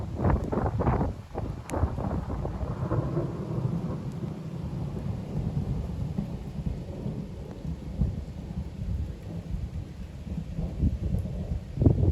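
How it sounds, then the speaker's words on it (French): A thunderstorm turning into a heavy hail shower, with rolling thunder at the start over dense, constant pounding of hail and rain plus wind buffeting the microphone, loud throughout. "L'orage s'est transformé en grosse averse de grêle. C'est le déluge."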